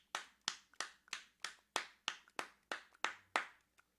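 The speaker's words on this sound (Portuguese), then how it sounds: "a gente tem a palma invertida" Inverted hand claps from a body percussion workshop, about a dozen crisp claps in a steady, fairly quick rhythm, close and alone against near silence.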